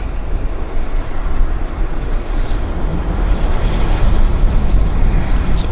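A WestJet airliner taxis at Vancouver airport under wildfire smoke, its engines giving a steady, broad jet roar that holds loud and even throughout, with no voices over it.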